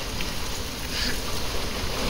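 Rain falls steadily outside a family home, a dense, even hiss of drops that carries on without a break and stays loud and close with no voices over it.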